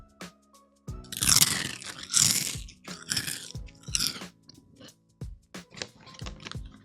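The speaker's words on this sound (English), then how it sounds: "But the crunch is very good on veggie straws," Close, loud crunching of veggie straws being chewed, a series of sharp crackling bites followed by softer, rhythmic munching that fades between chews.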